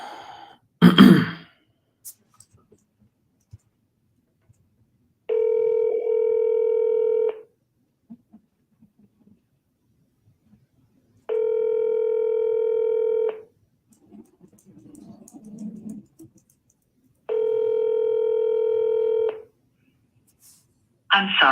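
Telephone tones sound during a redial, with three long identical electronic tones a few seconds apart, loud and close, plus faint breaths and a throat clearing in the gaps.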